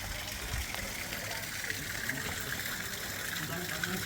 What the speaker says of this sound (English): This is just the stream what runs from the waterfall with the Buddha on the top.